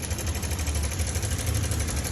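A Honda Click scooter engine with a tensioner problem idles steadily at close range, a continuous buzzing hum with no voices.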